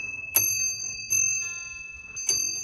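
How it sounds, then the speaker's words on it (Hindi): A small bell on a prayer wheel in Spiti, India rings three times at uneven intervals, each strike bright and metallic with a clear ringing decay over quiet background. "इसमें घंटी भी लगी है"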